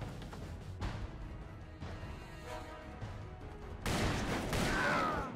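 Enemy gunfire in the Western shooter Call of Juarez, heard as sporadic distant shots and crashes, faint at first, then a louder burst of firing with a ringing ricochet near the end.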